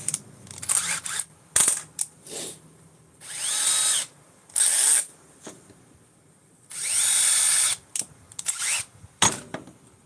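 Electric drill spinning in short bursts during a weekend workshop build, several loud whirring runs of a few seconds each separated by clinks and handling noises, close by and with no talk.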